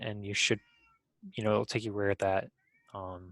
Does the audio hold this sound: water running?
no